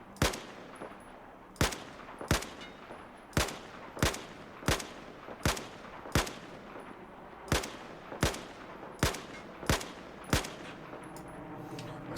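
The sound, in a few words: gunfire at test range targets in Battlefield 4 video game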